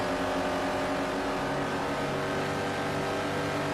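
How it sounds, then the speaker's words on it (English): A race car engine at Twin Ring Motegi drones steadily at high revs, its pitch wavering slightly as the driver feathers the throttle through turns 1 and 2, loud and continuous with no voices. "You can hear Avani having to feather the throttle just a little bit through 1 and 2."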